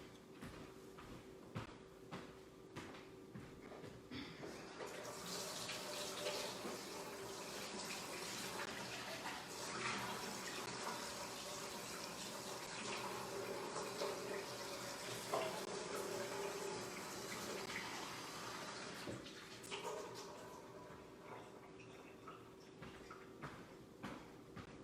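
Hot tap water pours steadily onto a plate for a rainbow sensory and STEM activity, a continuous broadband splashing rush that runs for about twenty seconds with no talking.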